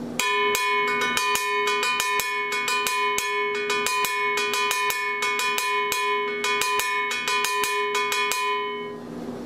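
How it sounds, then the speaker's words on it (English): A cowbell pattern from a drum clinic, struck as one tone with a wide dynamic range. Crisp metallic hits repeat in a quick, steady rhythm, with accents louder than the softer strokes. It is close and alone, with no talk. "it's a good demonstration of the different sounds that you can play on the cowbell"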